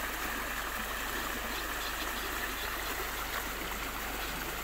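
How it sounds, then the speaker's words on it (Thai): Floodwater rushes through a culvert mouth into the Mun River beside flooded green rice fields, making a continuous loud, dense roar of flowing water with no pauses. "มาดูปากป่องกันหน่อยปากป่องท่อก่อนที่จะไหลลงสู่แม่น้ำมูล"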